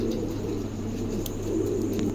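Soft, steady cooing from a Danish pigeon pair runs under a constant low hum and background noise, with faint chirps scattered above.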